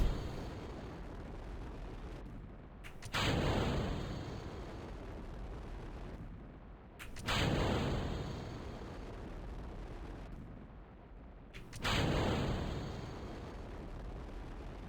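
Rocket engine firing in the Kerbal Space Program video game, a loud continuous roaring rumble that swells in three repeated surges, each cutting to a short hiss between bursts, no speech.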